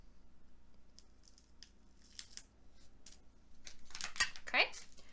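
Tape peels and rips off a roll and is pressed down onto laid-out fabric while sewing pants, with crisp close crackles and tearing sounds growing louder toward the end.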